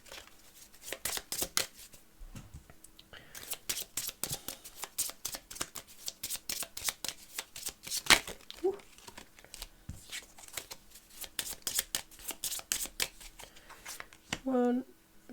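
Cards for the Witchcraft! board game shuffled during a solo play session, a run of quick crisp riffling and snapping flicks close by, repeated in bursts, with a person talking briefly near the end.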